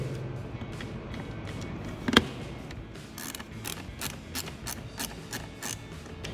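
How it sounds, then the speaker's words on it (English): A screwdriver backs Torx T20 screws out of the instrument cluster panel of a 2018-2023 Ford Mustang. Faint rubbing is followed by one sharp tool knock, then a rapid run of small ratcheting clicks, all close and quiet. "taking our screwdriver here and getting these Torx T20 screws unscrewed"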